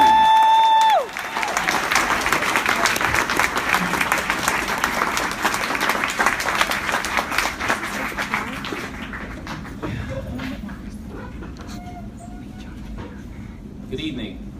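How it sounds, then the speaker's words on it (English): A graduation audience bursts into warm applause, loud dense clapping that holds steady and then thins into scattered claps and murmurs, with a voice speaking at the start. "I need you to please give a warm round of applause"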